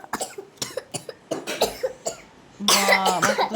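Several sharp coughs, close by, come in a ragged series of short bursts, then a denser, louder stretch of coughing and throat noise at the end, all set off by pungent cooking fumes in a home kitchen.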